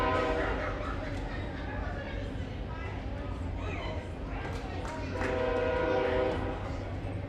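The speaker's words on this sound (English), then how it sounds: "Background noise brought to you by the train here in North Minot" A train rolls past a baseball field in North Minot during a Hazen vs Thompson game, its steady rumble and horn tones carrying close and continuous beneath crowd chatter.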